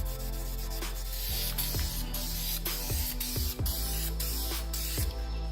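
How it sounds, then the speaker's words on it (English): Spray gun applying clear coat to Enkei RPF1 wheels, a steady close hiss that runs throughout, broken by short rhythmic bursts and pauses as passes are made. "I'm gonna go ahead and spray on the clear coat"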